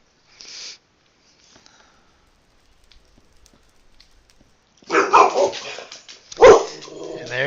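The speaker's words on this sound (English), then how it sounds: "And there's my dog barking at the neighbors." Dog barking at the neighbors, a short loud burst near the start and then louder barks from about 5 seconds on, with a few faint sounds in between.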